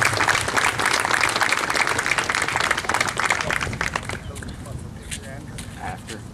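Banquet crowd at a university athletic awards night applauding an athlete, loud sustained clapping from many hands that thins out and fades toward the end, with voices mixed in.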